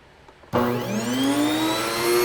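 A grain mill motor starts abruptly and spins up to speed to grind wheat into fine flour on a slow feed, its whine rising in pitch then settling into a loud, steady hum, with no talk.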